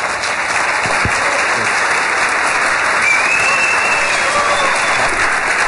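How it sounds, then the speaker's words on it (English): Loud, sustained audience applause from a crowd, dense continuous clapping with a few faint whistles rising through it, heard close and filling the whole stretch. "Applause"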